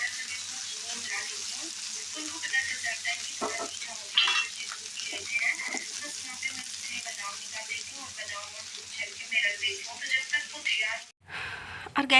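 Tempering (tadka) sizzles in a pan for a home-cooked vegetable dish in a kitchen, a steady frying hiss with small crackles and occasional clinks, briefly cut off near the end.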